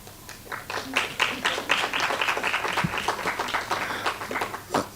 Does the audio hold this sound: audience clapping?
yes